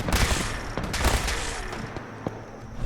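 Gunfire in Fallout 4 Far Harbor: a rapid string of loud, close shots with booming low thumps, several bursts spaced unevenly over a few seconds, with no talking during the firing.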